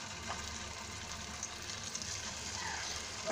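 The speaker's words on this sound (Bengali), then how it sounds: "সবজি চপ ভাজার জন্য আমি ফ্রাই প্যানে পরিমাণ মতো তেল দিয়েছি" Vegetable chops shallow-frying in a small amount of hot oil in a frying pan, giving a steady, close sizzle and crackle throughout with a few brief pops.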